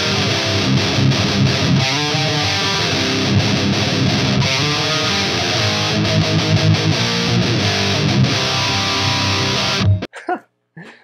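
A loud, heavily distorted electric guitar plays a metal tone through a Mesa Boogie Dual Rectifier amp, with chugging riffs and sustained chords that run almost without a break before stopping abruptly near the end.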